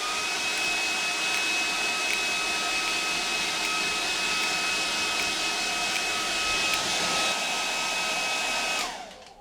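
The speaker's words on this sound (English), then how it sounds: "Hair dryer." A hair dryer blows with a steady, loud whooshing roar and a constant motor whine, running unbroken for several seconds before abruptly cutting off at the end.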